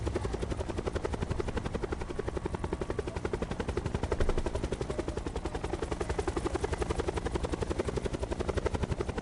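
A helicopter in the video game Call of Duty Blackout thrums steadily with a fast rhythmic rotor chop, loud and continuous throughout, with possible gunfire mixed in.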